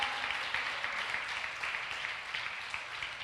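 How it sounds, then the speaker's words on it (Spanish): A church congregation applauding during a sermon, a fairly faint, even patter of many hands clapping steadily throughout with no voices over it. "Denle un aplauso a Dios"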